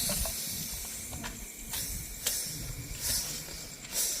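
Russell's viper during a snake rescue giving off sharp, loud hisses likened to a pressure cooker whistle, several bursts spread across the stretch over steady background noise, with no talking.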